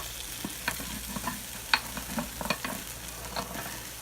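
Potatoes sizzling in a hot pot for New England clam chowder: a soft, continuous sizzle with scattered light clinks and stirring taps, close and moderately quiet, no voices.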